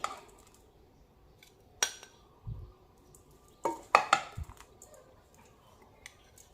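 Dishes and bowls clinking while plating chili paste: scattered sharp ceramic taps and clacks, a clear one early, then a quick cluster of knocks and clinks close by, with quiet gaps between and no speech.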